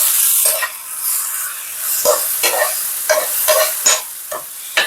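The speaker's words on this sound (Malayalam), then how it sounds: "ഇതിങ്ങനെ ഇടയ്ക്കിടയ്ക്കൊന്ന് ഇളക്കി കൊടുക്കണം" Food frying in a non-stick pan is stirred now and then, a loud close sizzle broken by repeated scraping strokes of the spoon at an uneven rhythm.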